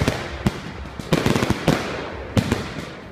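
New Year fireworks going off in a few sharp, booming bursts at irregular intervals, each with a crackling tail, fairly close and without any voices.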